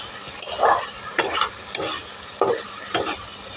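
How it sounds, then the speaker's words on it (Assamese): Potatoes are stirred with masala and mustard seeds in a sizzling frying pan, a spatula scraping in several uneven strokes over a constant close hiss of frying, with no talk. "এতিয়া মই আকৌ মিক্স কৰি ল'ম মছলাটোৰ লগত, সৰিয়হটোৰ লগত আলুকেইটা।"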